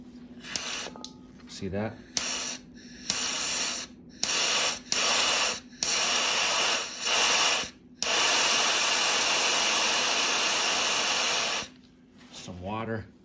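Compressed air is blown into the spark plug drain hole of a 2023 KTM/Husqvarna 350 four-stroke cylinder head, coming as a series of short close hissing bursts and then one long sustained blast, with brief talk between them.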